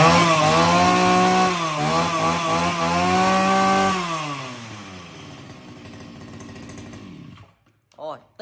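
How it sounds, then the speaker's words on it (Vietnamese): A used brush cutter's small two-stroke engine runs loud and close at high revs for several seconds. The revs then wind down until the engine cuts out, followed by a couple of brief clicks. "Bao đập cước ầm ầm luôn anh em nhá."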